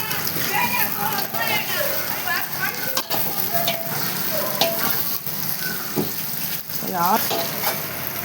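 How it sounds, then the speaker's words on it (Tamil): Onions and cloves sizzle and crackle steadily in a large biryani pot on a gas stove, a loud continuous fry with a voice speaking over it. "கிராம்பு ஆனியன் போட்டுக்கிட்டேன்."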